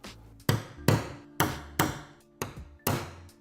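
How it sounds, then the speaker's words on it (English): Hammer tapping a hole punch through a paper template while fitting a TRE TR87 rear wing to a BMW G87 M2 boot lid: six sharp, close, evenly spaced metallic taps, each ringing briefly, with no talking. "we're going to get our hole punch, we're going to line it with this black dot, and then we're going to tap it down with the hammer"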